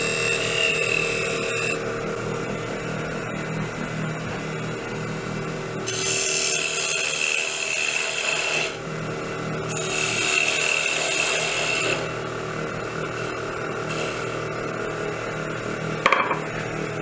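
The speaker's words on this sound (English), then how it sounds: "We're going to take the Forstner bit and we're going to gauge it" A Forstner bit bores into a natural-edge wooden bowl with a grinding, rasping whir that swells in several sustained bursts over a constant background motor drone, close and moderately loud.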